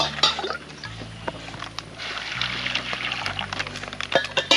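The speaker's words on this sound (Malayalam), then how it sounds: "ഇനി നമ്മൾ അതിനകത്തേക്ക് എന്തായാലും വെള്ളം ഒഴിക്കാൻ പോവാണ്" Water poured from a glass into a plastic bag holding tea and sugar, a close steady pouring and splashing stream with a few sharp crinkles and taps throughout.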